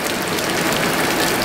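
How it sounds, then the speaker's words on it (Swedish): Heavy rain pours down hard, a loud, dense, unbroken hiss of drops striking surfaces close by. "Vad mycket det började regna nu."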